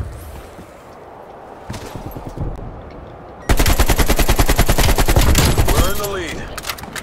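AK rifle fire in Call of Duty Cold War: a few scattered shots, then a long, loud, rapid automatic burst, close and sustained, with a brief voice near the end.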